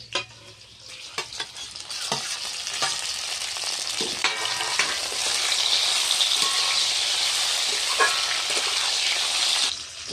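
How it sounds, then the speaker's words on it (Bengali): Pieces of fried eggplant hit a hot spice tempering with green chilies and radhuni, giving a loud, bubbling sizzle that swells and stays strong, with repeated clinking and scraping stirs in the pan and no voices. "এবার আমি ভেজে রাখা বেগুনগুলো দিয়ে দিচ্ছি ফোড়নের মধ্যে"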